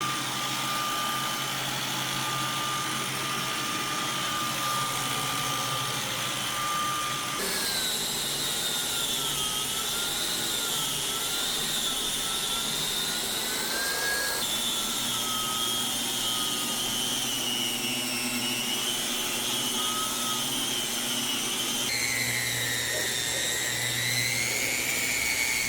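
An electric drywall sander runs continuously and close for the whole stretch, a steady loud whirring drone with a whining motor tone that shifts pitch a few times as speed or pressure changes.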